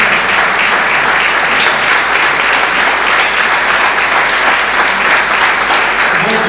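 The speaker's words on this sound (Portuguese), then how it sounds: "mais uma salva de palmas" Sustained audience applause at an assembly event in Portugal, a dense, steady clapping from a large crowd that fills the whole stretch at even loudness without pause.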